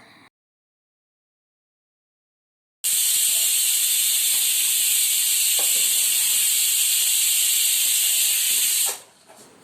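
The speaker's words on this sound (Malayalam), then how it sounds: "അപ്പോഴേക്കും ചോറിന് വെച്ചിട്ടുള്ള വെള്ളമൊക്കെ തിളച്ച് വന്നിട്ടുണ്ടായിരുന്നു കേട്ടോ." Water coming to a boil in a pot for cooking rice, giving a loud, steady steam hiss that starts abruptly after a silent gap, runs for about six seconds and then fades away.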